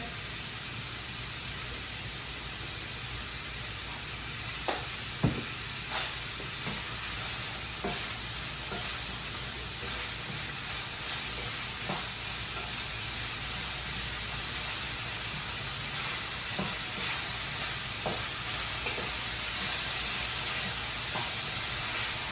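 Seasoned vegetables for Southern-style chicken dressing fry in a pan with a steady, close sizzle. Occasional scrapes and clicks from stirring come through, and no one speaks.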